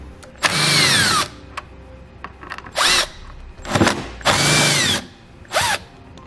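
A power tool with a T30 Torx socket removing tail light bolts on a vehicle: five loud, close whirring bursts of varying length, separated by short pauses.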